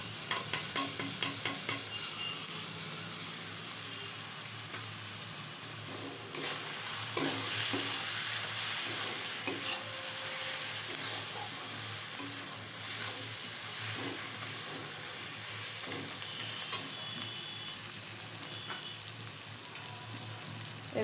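A paste of ground spices fries with onion in a pot for Bengali mutton kosha, stirred repeatedly with scrapes and knocks of the spoon over a continuous, fairly close sizzle that grows louder partway through.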